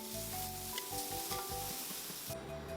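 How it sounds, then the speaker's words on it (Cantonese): Onions stir-frying in a little oil in a wok over high heat, a steady close sizzle with stirring scrapes and clatter throughout, with no talking. "用大火將佢燒熱，然後就加啲洋蔥落去，再加少少鹽。 炒大概2至3分鐘"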